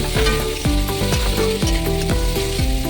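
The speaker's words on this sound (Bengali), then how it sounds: "দেখতে পাচ্ছ আলু আর বেগুনগুলো আমি কড়াইয়ের মধ্যে দিয়ে দিচ্ছি সম্পূর্ণ।" Potatoes and eggplant hit hot oil in a wok and sizzle steadily, a loud continuous frying hiss that runs throughout alongside a repeating tonal melody, with no talking.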